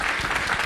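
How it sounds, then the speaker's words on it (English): A brief burst of applause, many hands clapping in a dense, continuous patter from a crowd. "Give them all a round of applause."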